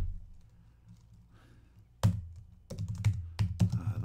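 Keys clatter on a computer keyboard while text is typed into screenwriting software: a low hum at first, then a loud burst of clicks about halfway through and a quick run of keystrokes to the end.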